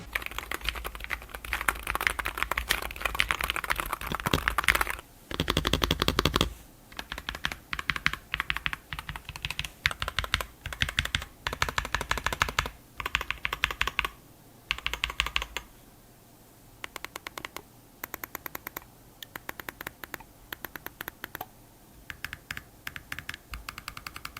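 Steady typing on a NuPhy Field75 HE magnetic-switch keyboard, a rapid stream of soft, muted key clicks close by, with brief pauses between bursts and no voices.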